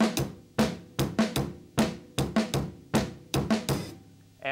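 Drum kit playing a 2-on-3 polyrhythm built on triplets, a steady loop of sharp cymbal-and-drum hits with kick accents, close and loud, alone with no talk.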